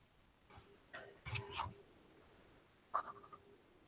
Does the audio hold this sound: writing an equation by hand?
yes